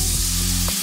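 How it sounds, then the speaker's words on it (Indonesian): Spice paste for marinated chicken sizzling in hot oil in a pan, a steady close crackling hiss with no talking. "Ini bumbu ungkepnya digoreng dulu sampai matang"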